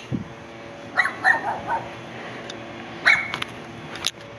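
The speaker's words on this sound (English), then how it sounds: "Sorry about that dog over there." A small white dog barks from a short distance outdoors near a tree, a few sharp yips in two brief bursts over quiet background.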